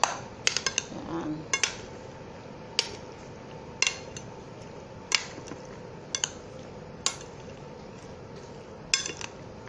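Utensils clink and scrape against a bowl while eggplant and beetroot salad is tossed, giving a string of sharp, separate metallic taps every second or so over a soft, steady kitchen background.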